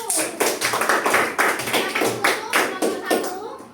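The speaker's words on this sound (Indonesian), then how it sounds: "Beri tepuk tangan untuk kelompok 1" Schoolchildren in a classroom clap for a group of classmates after their presentation, a steady run of sharp, closely spaced claps in rhythmic pulses that stays near and moderately loud throughout.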